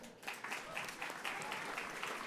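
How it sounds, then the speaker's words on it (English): An audience at a Columbus mayoral candidates forum gives a round of applause, dense, even clapping from many people that rises quickly and continues steadily, somewhat distant. "Let's give them a round of applause"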